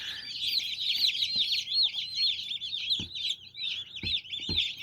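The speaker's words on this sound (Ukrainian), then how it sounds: "є шуршання курчат в інкубаторі" Newly hatched chicks in an incubator cheep continuously in a dense, high, overlapping chorus, close and steady, with a few soft knocks and rustles underneath.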